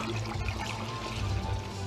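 Liquid silver sludge pours through a funnel, a continuous, close, full-bodied gush with a slight gurgling churn and no voices.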